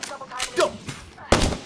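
Gunshots in the battle-royale shooter Apex Legends, a few sharp separated bursts with one louder close shot near the end, over faint game noise.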